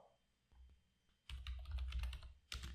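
Rapid keystrokes on a computer keyboard as a network configuration command is typed on a Windows Server 2016 Server Core machine, starting with a few soft taps then a dense burst of clicking, a pause, and a final flurry of keys.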